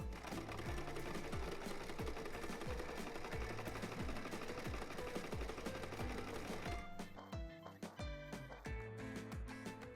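A sewing machine stitches handbag straps with a steady, rapid mechanical rattle that runs loud and continuous, its rhythm changing briefly partway through before resuming.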